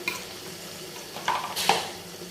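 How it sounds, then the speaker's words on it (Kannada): Village-style tomato curry being stirred in a pan, with a soft simmering sizzle underneath and two sharper scrapes of the spoon against the metal near the end. "ಅದಕ್ಕೆ ಒಂದ್ಸಲಿ ಎಲ್ಲ ನೀಟಾಗಿ ಮಿಕ್ಸ್ ಮಾಡ್ಕೊಳ್ಳೋದ"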